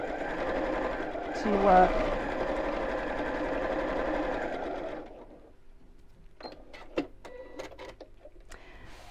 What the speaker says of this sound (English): I like a bit of top stitching